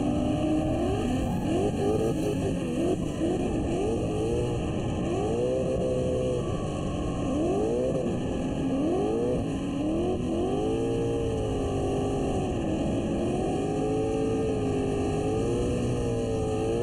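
Drift car running a course, its engine revving hard and rising and falling in pitch through repeated throttle changes, loud and sustained with a steady high whine behind it.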